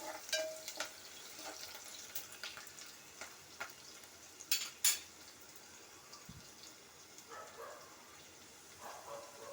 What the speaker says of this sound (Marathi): कांदा छान असा ब्राऊन रंगावर परतून घ्यायचा